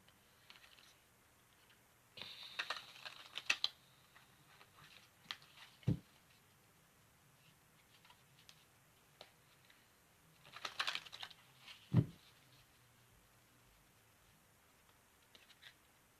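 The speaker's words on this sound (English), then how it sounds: "So give me a moment while I shuffle up." A deck of playing cards is shuffled up by hand, giving soft riffling bursts and taps scattered across the clip, with two sharper knocks as the deck is squared; quiet overall with no talking.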